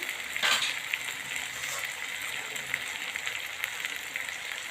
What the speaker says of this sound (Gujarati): બહુ જ સરસ મજાનું શેકાઈ ગયું છે।